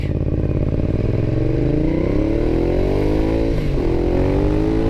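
A Ducati Diavel motorcycle engine rumbling loudly up close, its pitch climbing as it revs, dipping briefly, then rising again.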